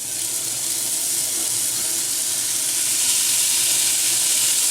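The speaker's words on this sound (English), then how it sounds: "I've seasoned the ribs with salt and pepper, and I'm going to fry them now," Beef short ribs seasoned with salt and pepper frying fat side down in a hot pan, giving a steady, loud, continuous hiss and sizzle with no talking.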